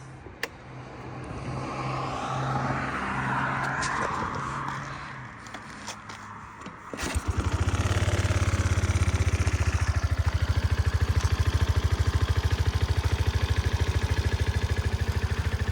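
A Suzuki Address V125 S scooter idles close by, settling into a steady, even engine rumble after a brief stretch of rustling and handling noise.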